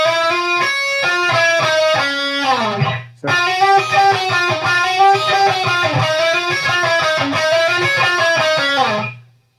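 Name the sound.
electric guitar playing a phrase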